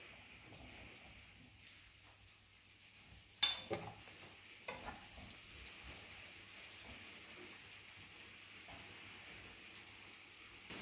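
Chopped bell peppers tipped into a pan fry with a soft, steady sizzle, opening with a few sharp clatters and knocks as the pieces hit the hot surface, then settling into a quiet, even hiss.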